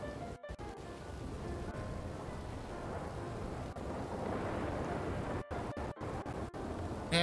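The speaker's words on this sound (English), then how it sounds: "And it's a thunderstorm." Low, rumbling video-game thunderstorm noise from Red Dead Redemption 2 rolls on steadily with a hiss of rain, broken by a few abrupt cuts, fairly quiet overall.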